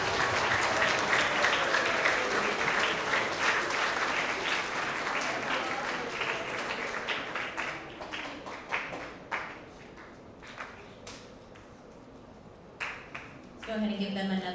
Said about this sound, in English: give them another round of applause for all of our creative problem solvers